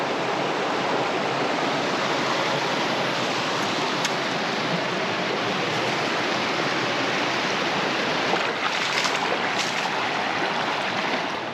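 A waterfall on a forest creek roars steadily and loudly, a dense unbroken rush of falling water that fills the whole stretch with no voices.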